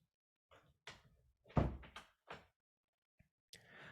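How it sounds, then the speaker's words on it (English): Indoor door pushed open by a dog: a series of close thumps, knocks and creaking rattles scattered irregularly, with quiet gaps between them. "my dog just opened the door"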